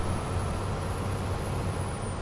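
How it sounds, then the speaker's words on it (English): A Scania truck hauling a triple trailer runs with a steady, loud, unremarkable engine drone and road rumble from inside the cab, with a thin high whine above it. "It's a quite a boring sounding truck"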